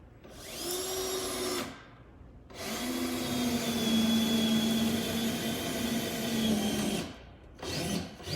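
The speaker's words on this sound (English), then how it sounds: "using a self-feed bit to drill this hole because it helps pull it into the wood" A power drill with a self-feed bit whines loudly in sustained bursts as it bores into wood, stopping briefly between runs, with a short final burst at the end.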